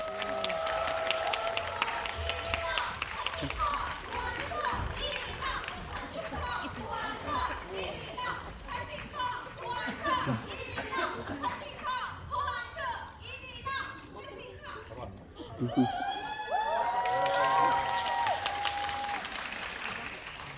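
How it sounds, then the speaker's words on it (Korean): An audience at a premiere screening of the Apple TV+ series Pachinko season 2, held at Lotte Cinema World Tower, applauds as the actors come on stage. Sustained clapping and cheering mixes with a host talking over it. "큰 박수로 맞이하겠습니다"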